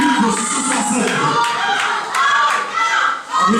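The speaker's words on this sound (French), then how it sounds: "Applaudissez s'il vous plaît." Audience at a summer slam poetry contest applauding with loud clapping and cheering, a crowded, energetic burst that dips briefly near the end, with voices mixed in.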